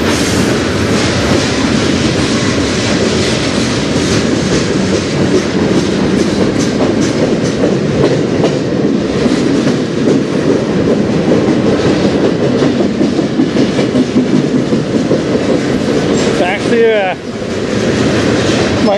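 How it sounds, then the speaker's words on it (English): CN freight train rumbling steadily past at close range, loud continuous wheel clatter and rolling roar with a brief squeal near the end. "Might be a fairly decent length train on this one."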